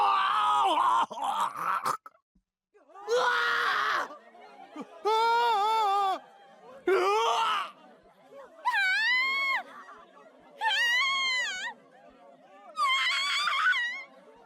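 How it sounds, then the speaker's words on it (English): Students screaming and moaning in a school gym in the game Chaos;Child, a series of drawn-out wailing, groaning cries in separate bursts with short gaps, loud and close, rising and falling in pitch. "The students' screams echoed in my ears."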